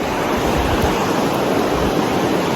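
A mountain stream rushes over rocks in a steady, loud wash of water that fills the whole stretch without a break, with no voices over it.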